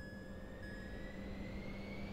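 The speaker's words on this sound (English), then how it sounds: "let's release the parking brakes and give full throttle and take this plane up in the air" Pilatus PC-24 business jet spooling to full throttle for takeoff in Microsoft Flight Simulator 2024, a steady engine roar with a rising whine, loud and continuous throughout with no talk.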